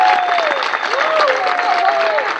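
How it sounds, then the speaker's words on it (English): Audience applause at the UPMC Health Plan Mixed Doubles Charity Classic tennis event for the defending champions: steady, dense clapping from a crowd with a voice speaking over it. "So let's give them a great round of applause."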